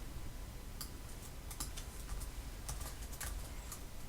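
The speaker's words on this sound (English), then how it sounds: "Hopefully I got all that typed in right." Numbers are tapped into a calculator for a law of cosines problem, giving faint, irregular clicking key presses in short bursts over a quiet room hiss, with no talking.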